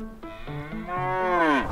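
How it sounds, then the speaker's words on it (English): A hungry cow lets out a single loud, close moo that rises and swells in pitch before cutting off, with no voices. "will moo to let us know that they are really hungry"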